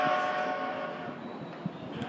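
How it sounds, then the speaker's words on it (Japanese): A Tokaido Line local commuter train bound for Atami pulls away from a platform at Shinagawa Station, a low rumble with tonal hum and faint clanks, steady and fairly close. "東海道線下り普通列車熱海行きが発車いたします。"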